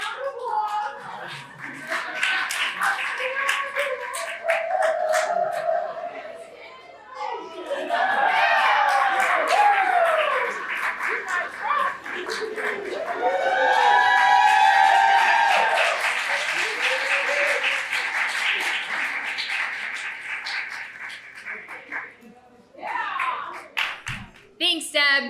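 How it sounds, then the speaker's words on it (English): An audience at an annual meeting breaks into sustained applause with cheers and whoops, dense clapping from many hands swelling and fading in waves, close and loud, with a few voices calling out over it. "Give them a round of applause."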